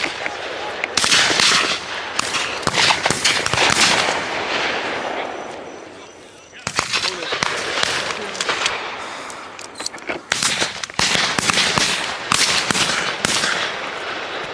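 Shotgun shots during a dove hunt outdoors in a storm, a series of loud sharp blasts scattered through a steady roar of wind and rain, with hunters' voices calling out between shots.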